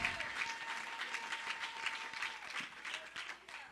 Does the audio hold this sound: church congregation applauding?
yes